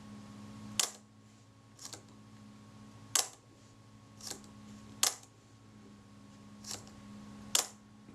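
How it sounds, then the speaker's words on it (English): A 35mm film camera's mechanical shutter fires seven times at irregular intervals, each a crisp close click over a low steady hum; the shutter release had been sticking. "if I just give the shutter release plunger a touch, the shutter will fire"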